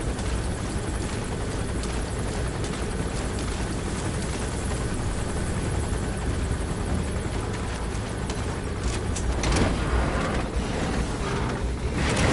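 Helicopter from Metal Gear Solid V: The Phantom Pain, a steady close rotor chop droning loudly and continuously throughout with no talk over it.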